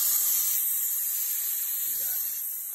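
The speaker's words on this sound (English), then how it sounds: "So if I push this, the spray starts." Arduino-timed aeroponics system spraying a fine fog, a steady close hiss of mist running continuously throughout.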